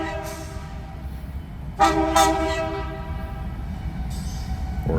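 Locomotive engines without any cars pass at close range, a steady loud rumble with a sustained horn blast and a later shorter horn note, no talking.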